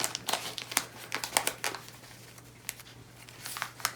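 Paper being folded over along an edge while making a book cover, heard as close, soft crinkling and sharp crackles in irregular bursts over a quiet background.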